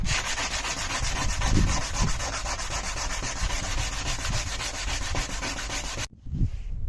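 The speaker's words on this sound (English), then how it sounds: "I'm just gonna sand a little bit down the rough surface" Rough fiberglass filler on a rusted car being sanded by hand, a dense, steady scraping rub with quick rhythmic strokes, close and loud, stopping abruptly near the end.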